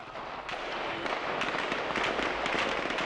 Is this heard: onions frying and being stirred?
no